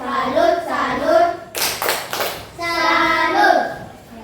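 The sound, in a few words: class clapping a tepuk salut cheer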